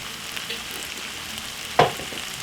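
Jerk-seasoned beef mince with ketchup and tomato sauce sizzles softly in a pan, a steady low frying hiss with one sharp scrape or clatter of the stirring spoon near the end.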